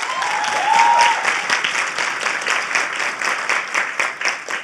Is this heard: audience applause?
yes